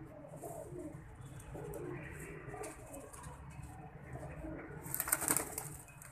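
Soft pigeon cooing rises and falls amid rustling and a low background murmur, with a brief burst of wing flapping near the end.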